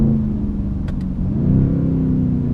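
Mercedes C63 AMG engine and exhaust during a downshift, heard from inside the car as a loud, steady low rumble that rises slightly partway through, with a couple of brief faint clicks.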